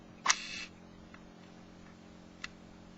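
Vintage Nikon S rangefinder camera shutter firing once up close, a sharp mechanical click with a short whirring tail, followed by a couple of faint ticks in a quiet room.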